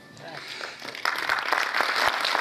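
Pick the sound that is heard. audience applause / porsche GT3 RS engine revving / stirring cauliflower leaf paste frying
audience applause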